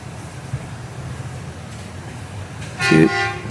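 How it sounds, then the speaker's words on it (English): A garbage truck horn gives a short toot from outside near the end, over steady traffic-like background noise, after a quiet stretch. "I don't know what they're honking at."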